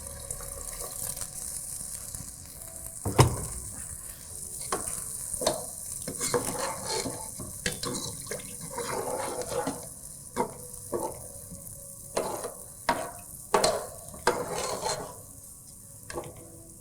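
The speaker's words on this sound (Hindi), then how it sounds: "अब हम इसमें डालेंगे अपना पानी।" Water is poured into a pot of rice for Arabic rice, a splashing, sizzling pour with scattered clinks and stirring knocks at close range, and no talking.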